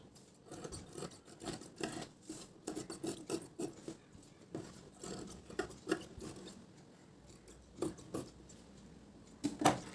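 Scissors cutting organza blouse fabric layered with the main fabric, heard as soft irregular snips and rustling fabric rubs, close and fairly quiet, with a sharper snip near the end and no talking.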